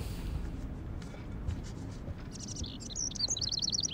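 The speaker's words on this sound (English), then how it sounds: "Can you help me get this bird out of here?" Indoor bird chirping in the Life Is Strange game: a run of rapid, high tweets late in the clip over a low background rumble.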